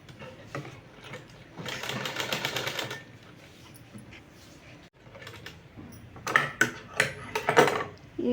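A sewing machine stitches a fabric strip in quick bursts, its mechanical whirr rising and pausing between runs, with scattered clicks and handling knocks around it.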